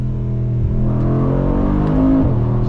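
A heavy 2022 Mercedes-Benz G63 AMG launches hard with stability control off, its engine roaring in a loud, steady rising rumble that swells briefly near the end, with no talking over it.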